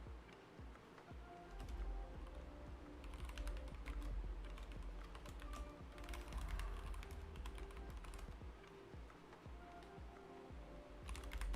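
Rapid, continuous typing on a computer keyboard while working in DOS 2, key clicks clattering steadily and close by over a low background hum, with no talking.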